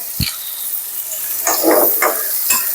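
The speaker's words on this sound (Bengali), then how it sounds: "এই যে আমি আলুর তরকারিটা রান্না করব তার জন্য পেঁয়াজ আর কাঁচামরিচ দিয়ে দিচ্ছি" Sliced onions and green chilies hiss and sizzle in hot oil in a pan for a potato curry, with scattered crackles and spatters coming close and loud.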